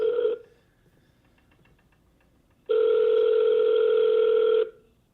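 Outgoing telephone call to a property seller, with the ringback tone sounding in two steady electronic bursts separated by a quiet gap, clear and close with no talking.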